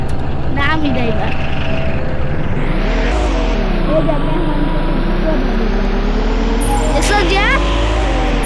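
Steady engine drone of a vehicle being driven in a Roblox hide and seek mall game, loud and continuous with rising and falling pitch, under a voice talking throughout.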